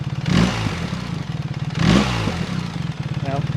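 Standing BMW R1300 GS motorcycle with an aftermarket exhaust revs up twice in short bursts, the pulsing idle rumbling between them, loud and near, with a faint voice at the end.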